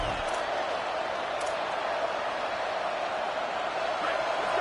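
A big football stadium crowd roars in a steady, dense wash of noise that fills the whole stretch at an even, loud level, with a faint voice under it.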